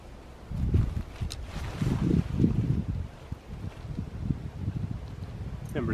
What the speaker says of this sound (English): It is a bit windy today